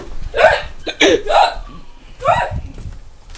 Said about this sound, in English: I got the hiccups, dude.